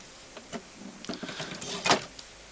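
An HP 2200 F2280 inkjet printer with a continuous ink system running its setup after the door is raised: faint whirring, clicks and a louder mechanical shuffle near the end.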